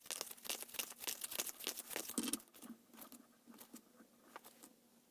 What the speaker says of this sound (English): So I'm going to shuffle some more cards here